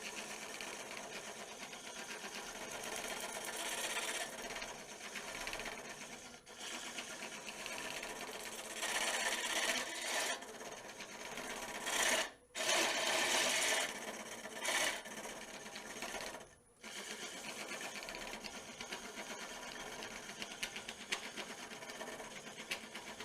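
A woodturning lathe cuts with a Woodcut Tools Pro Forme Flexi cutter, giving a steady close scraping hiss over motor hum. Two brief drops to near silence come as the cutter is lifted. No talk.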